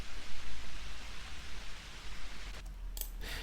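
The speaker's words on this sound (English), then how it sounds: "we need to have something like white noise, or some noises, some textures, maybe vinyl noise" A soft hissing white-noise texture runs steadily under a lo-fi house track, faint and even, with a few brief crackly clicks and bursts near the end, no voices.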